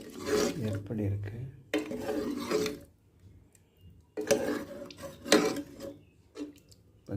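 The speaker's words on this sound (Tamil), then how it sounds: "கோகோனட் மில்க், தேங்காய் பால் போட்டு செஞ்ச சிக்கன் கறி மிக்ஸ் பண்ணுறேன்" A pot of chicken curry made with coconut milk being stirred, scraping and rubbing strokes in bursts separated by pauses, close by, with a person speaking briefly between them.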